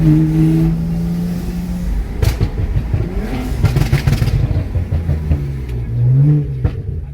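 A BMW 335i with the N54 engine accelerates and revs hard, rising engine tones climbing through gear changes with rough, loud bursts in between, heard from close range.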